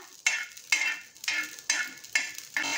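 Rice dry-roasting in a pan for jaggery kheer, stirred in a regular rhythm: about six dry, rustling scrape strokes in quick succession, close and fairly loud, with near-silence between them.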